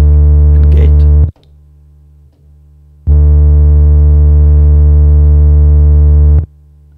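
A loud, steady low sine tone from a Pioneer DJ SP-16 sampler sounds for over a second, stops, then returns looped as a single-cycle waveform for about three more seconds as a smooth continuous hum.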